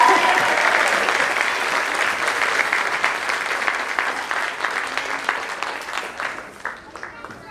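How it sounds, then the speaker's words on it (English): Audience applause for fourth graders at an elementary school spring concert, a dense, sustained wash of clapping that holds steady for several seconds and then gradually thins and fades, with a few voices underneath. "let's clap for the 4th graders"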